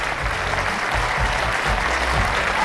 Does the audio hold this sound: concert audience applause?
yes